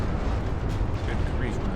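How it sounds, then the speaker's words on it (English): Torpedo hits exploding against a ship in the naval game Ultimate Admiral Dreadnoughts, a dense, continuous low rumbling blast filling the whole moment, loud and heavy, with a voice faintly mixed in. "More torpedo hits."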